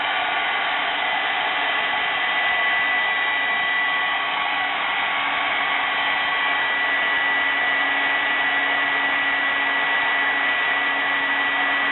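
A heat tool blows continuously and steadily up close, melting Gilded Ivory embossing powder on a stamped card, with a constant loud airy whoosh and no talking.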